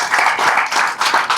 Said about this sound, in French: Je voudrais que toute la salle l'applaudisse